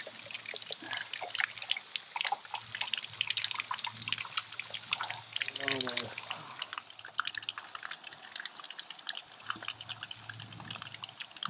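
Spring water trickles and drips from a roadside spring in the Shivapuri forest while bottles are being filled, a close, irregular patter and splash running throughout with no talking.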